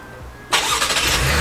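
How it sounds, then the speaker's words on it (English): A Chevy Traverse engine fires up by remote start after a quiet pause, bursting into a loud, close crank-and-catch that settles into a steady running roar. "start the car without being in it"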